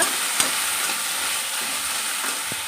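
A pan sizzles steadily as ingredients fry with salt for a Karnataka ladies-finger sambar, a continuous close hiss with a couple of faint scrapes from stirring, and no voices.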